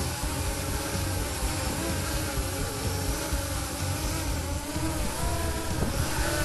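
A drone flies while painting a blue sky, giving a steady, loud, dense motor and propeller buzz with no pauses throughout.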